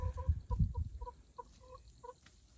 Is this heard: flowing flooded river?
no